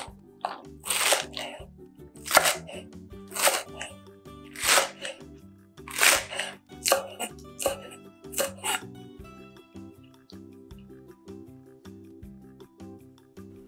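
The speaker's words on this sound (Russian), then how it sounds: "Берем и нарезаем небольшой пучок ароматного зеленого лучка." A knife chops green onions rhythmically on a cutting board, a series of crisp, close cuts that slow and fade toward the end.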